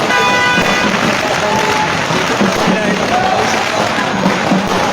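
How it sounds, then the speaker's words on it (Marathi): A dense, loud barrage of firecrackers and fireworks crackles and pops continuously at a political welcome rally in Sangola, with a noisy crowd murmuring underneath. "फटाक्यांची आताशबाजी आणि फुलांची उधळण"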